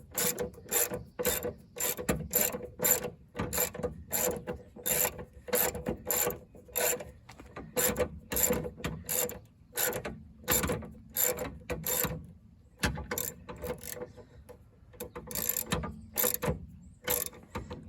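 A ratchet wrench snugs strut bolts on a 2005 Chevy Malibu: rapid bursts of sharp metallic clicks in quick, fairly regular strokes, close up, with brief pauses between runs and no voices.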